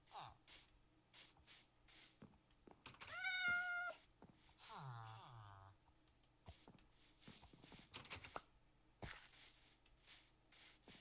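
A cat in the video game Minecraft gives two distinct meows a moment apart, set against soft clicking of keys and faint game sounds.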